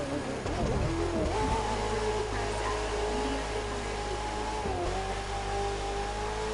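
Car engine in The Crew 2 racing game revving hard with nitro boost, a loud sustained drone that rises in pitch, dips and climbs again as it accelerates, no voices.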